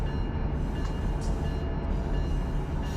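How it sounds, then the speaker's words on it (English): A high-priority intermodal freight train heading to the East Los Angeles rail yard rolls past with a steady, loud rumble and continuous wheel and rail noise, without any clear horn blast. "So we are taking a YR-ZG1LA-06 high priority intermodal train to East L.A. yard."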